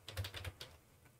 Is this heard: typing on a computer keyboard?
yes